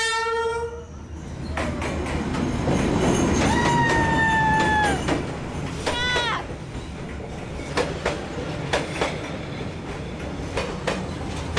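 A train in northern Vietnam rushes past close by with a loud rumbling roar and rhythmic clacking of wheels, while a horn blares briefly before the noise thins out.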